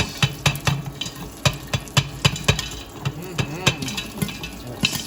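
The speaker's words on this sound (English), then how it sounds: "And the popcorn will start popping." Kettle corn popcorn popping in a pot, sharp irregular pops bursting every fraction of a second over a sizzling background, close and fairly loud.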